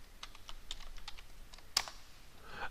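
Keys tapped on a computer keyboard as a folder name is typed, a quick run of close, crisp clicks ending in a louder final keystroke, with no voices.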